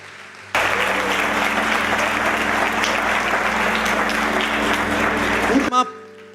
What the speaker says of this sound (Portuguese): Carlos de la Ré, queria que você pudesse dar a melhor salva de palmas que você guardou para essa noite